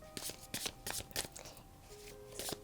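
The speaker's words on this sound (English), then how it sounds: "let's shuffle." Tarot cards from a new deck are shuffled in quick, papery bursts close up, a steady series of soft slaps and riffles with a faint tone in the background.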